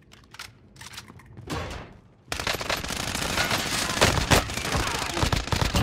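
Automatic gunfire erupts in the Warzone video game, starting as scattered shots and then becoming a loud, dense continuous burst of rapid fire that fills the rest of the clip.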